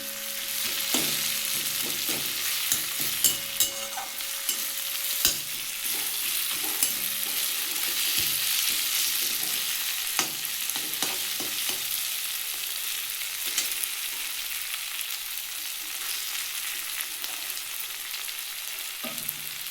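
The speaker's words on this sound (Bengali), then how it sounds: "দেখুন বন্ধুরা আমার পেঁয়াজটা এখনও ভাজা হচ্ছে" Sliced onion frying in a pan of oil, a dense continuous sizzle with occasional spatula taps and scrapes across the whole stretch, close and steady with no talking.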